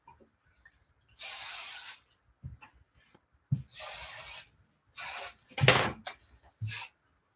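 A spray bottle gives several short, sharp hissing bursts, about five separate squirts with brief pauses between them, close up.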